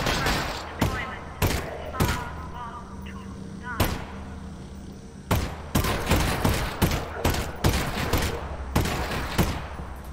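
Rapid bursts of gunfire from combat soldiers in a firefight in the VR game Half-Life: Alyx, loud sharp shots cracking in irregular clusters over a steady low game rumble, with no talking.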